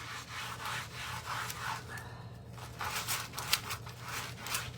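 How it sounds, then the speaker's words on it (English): Brush burnishing foil laid over a surface, a soft dry rubbing and scratching repeated in steady back-and-forth strokes, close and fairly quiet, with no voices. "I'll come in with the brush and burnish the entire surface."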